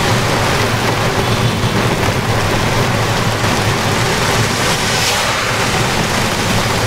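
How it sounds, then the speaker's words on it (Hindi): Heavy rain pours down on an electric auto-rickshaw in a steady, dense roar that never lets up, loud and close with no voices. "काफ़ी ज़्यादा बारिश हो रही है"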